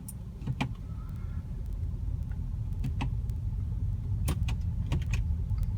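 2011 Mercedes-Benz E350 BlueTEC diesel car pulling away, a steady low engine and road rumble from inside the cabin with a few clicks and taps over it.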